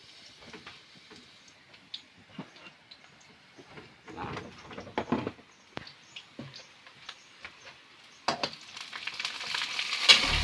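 Food is sautéed (ginisa) in a frying pan, sizzling close by with scraping and clicking stir strokes. The frying grows louder and denser toward the end.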